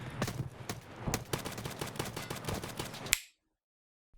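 Automatic gunfire in the online shooter Escape From Tarkov, a rapid stream of close, loud shots lasting about three seconds that ends with one sharp crack and abrupt silence.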